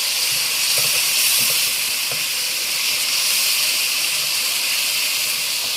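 Mashed dal frying in a pan for a dhaba-style dal mash gives a steady, fairly loud sizzling hiss that holds evenly throughout, with a few faint stirring knocks underneath.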